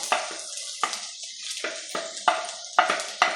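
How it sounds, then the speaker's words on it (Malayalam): Sliced onions hitting a pan of softened ginger and garlic and frying, a steady sizzle broken by repeated scraping stirs at an even rhythm, close and fairly loud with no talking. "അതിലേക്ക് നമ്മൾ തടിഞ്ഞ് വെച്ച സബോളി ഉള്ളി ചേർത്ത് കൊടുക്കാം"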